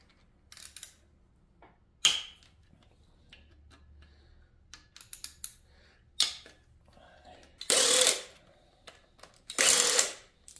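A ratchet backs out Torx T40 screws from the cam retainer plate of a C5 Corvette LS6 engine, faint clicks and handling noises followed by two short, louder bursts of rapid ratcheting.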